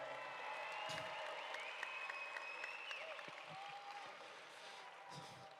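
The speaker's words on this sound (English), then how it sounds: "Let's give him a round of applause as well" Faint, distant audience applause at the opening night of the Ford Amphitheater in Colorado Springs, honouring former mayor John Suthers, spreading as a soft, even patter across the open-air venue.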